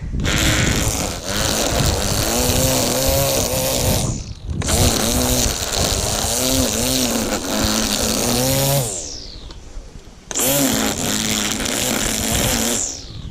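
A two-stroke brushcutter engine runs loud and close in three long bursts while mowing grass, its pitch rising and falling as it cuts, with short quiet gaps between.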